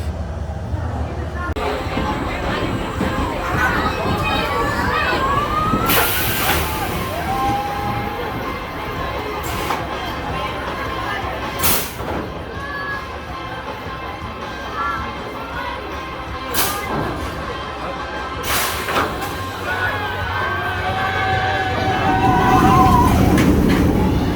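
Accelerator, a family boomerang roller coaster at Drayton Manor, rumbles and clatters along its track for a long stretch, with rattling wheel noise and sharp metallic bursts, plus a rider talking and gasping over the ride.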